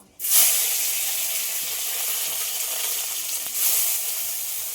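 Cumin seeds hit hot oil for tempering, bursting into a sudden loud sizzle that settles into a steady crackling hiss, with a second flare of spattering near the end.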